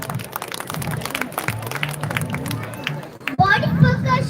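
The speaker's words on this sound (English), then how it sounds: "Please give them a big round of applause." Broadband clapping from an audience at a school annual day swells up loudly near the end, following a stretch of chatter and crowd noise.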